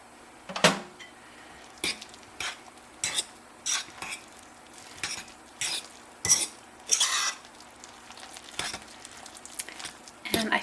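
Two eggs and two tablespoons of oil are mixed for potato pancakes, giving a steady series of close utensil scrapes and clinks against a bowl, about one stroke every half second, with no voices.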